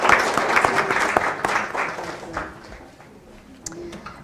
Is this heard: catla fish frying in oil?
no